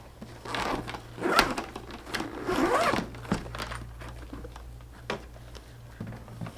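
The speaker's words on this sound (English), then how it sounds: "Zip it up. It zips easily" A zipper runs around a paintball goggle case in several close, rasping pulls of varying length, followed by lighter handling rustles and clicks, with no talk.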